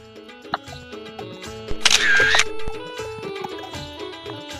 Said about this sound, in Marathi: चला फोटो काढू